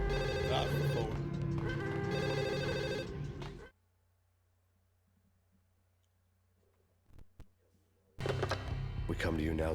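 A telephone rings loudly in the video game Max Payne, its repeated electronic bell filling the first few seconds, then stopping into near silence before a loud burst of game sound returns.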